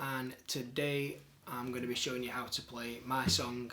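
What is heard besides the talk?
No distinct noise like a dog, phone or traffic.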